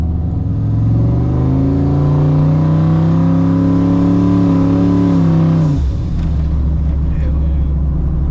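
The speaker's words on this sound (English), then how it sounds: "that blow-off valve, straight from China, that thing's pretty noisy" A turbocharged Silverado truck engine revs steadily upward for several seconds, then the revs drop suddenly with a brief rushing release from a noisy aftermarket blow-off valve before settling back to idle.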